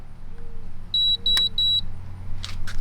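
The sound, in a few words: Zero Breeze Mark 2 portable AC power-on beeps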